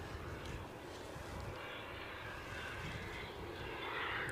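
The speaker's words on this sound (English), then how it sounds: "Finnair returning to Helsinki with their Embraer 190 long range" A Finnair Embraer 190 airliner at Edinburgh Airport gives a steady, broad engine roar that holds at a fairly even loudness throughout, with a slight swell near the end and no talk over it.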